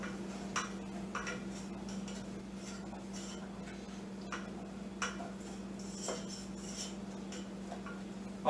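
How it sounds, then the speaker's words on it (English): Cheese sauce is stirred into melted butter in a pan over low heat, with light, irregular utensil clinks and taps against the pan over a steady low hum, close and quiet. "So I'm gonna add my cheese sauce into that, dump that in there, and mix"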